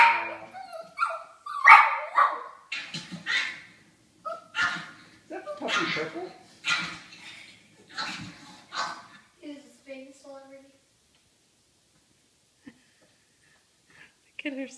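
A dog barks, yips and whimpers through a TV speaker indoors, the sounds coming in repeated short bursts mixed with people talking nearby, then fading to near silence with only faint scattered noises.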